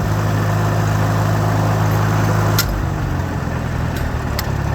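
A Farmall H tractor engine runs close and loud with a steady low rumble, then drops to a lower, smoother idle partway through.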